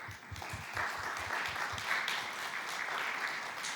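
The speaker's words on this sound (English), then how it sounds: "I want to please ask for a round of applause to our panelists" An audience applauds panelists at a session on monitoring, evaluation and learning systems, a sustained roomful of clapping with some distinct nearby hand claps at the start, holding steady for several seconds.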